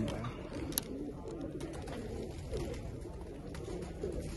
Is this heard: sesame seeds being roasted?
no